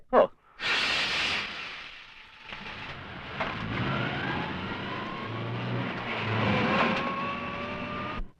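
A car engine revs and climbs steadily in pitch as the vehicle pulls away, heard fairly close over a continuous hiss after a brief sharp knock at the start.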